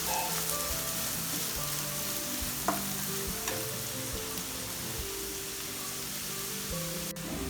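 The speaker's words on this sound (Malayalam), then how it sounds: "സവാള നന്നായി വഴറ്റി കൊടുക്കാം" Sliced onions sizzle and fry steadily in a pan, a dense continuous crackle with occasional stirring scrapes, close and fairly loud.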